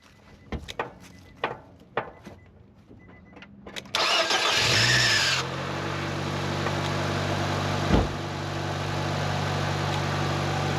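A car engine that has sat unused for about a month, started with a 6250A jump starter box: a few faint clicks and knocks, then a loud cranking catch that settles into a steady close idle.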